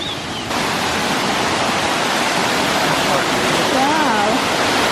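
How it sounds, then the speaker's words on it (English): A waterfall in the Black Forest roars in a steady, loud, dense rush that fills the whole clip. Faint voices or birdsong rise briefly above it near the end. "Amazing waterfall."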